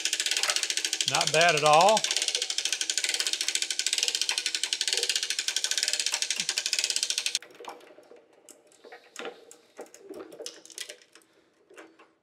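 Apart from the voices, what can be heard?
cranking up Rogers 60 ton hydraulic press, ratchet clicks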